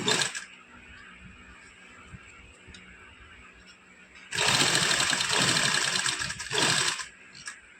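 A sewing machine stitches a half collar onto a garment neckline: a quiet hum at first, then a loud, steady run of rapid stitching through the second half that stops just before the end.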